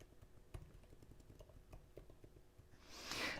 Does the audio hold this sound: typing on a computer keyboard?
yes